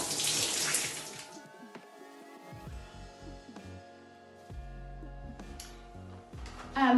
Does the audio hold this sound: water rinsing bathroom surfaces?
yes